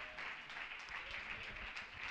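A church congregation claps hands together in a steady, dense burst of applause, a few voices faintly audible underneath.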